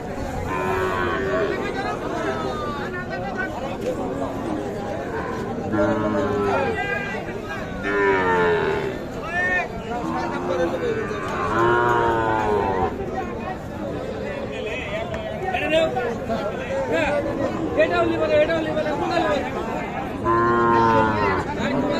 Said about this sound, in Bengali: এগুলো ছোট ছোট বাছুর।